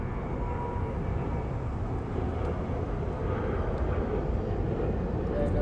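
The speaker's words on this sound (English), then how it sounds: "All the way from Toronto on a 787-9 Dreamliner." An Air Canada Boeing 787-9 Dreamliner arriving at Los Angeles International Airport from Toronto, its jet engines producing a steady, moderately distant roar that holds evenly throughout.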